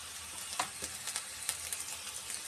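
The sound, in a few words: frying in a pan while making patties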